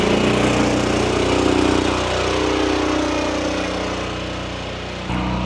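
An old hydro seeder engine runs at a steady idle after being fired back up, a continuous close mechanical drone with a slight dip and change near the end.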